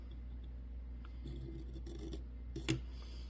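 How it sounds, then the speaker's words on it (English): A knife blade drawn through a carbide pocket sharpener in pivot action gives faint, short scraping rasps, ending in one sharper metallic scrape, quiet and close. "And now the carbide is cutting less aggressively."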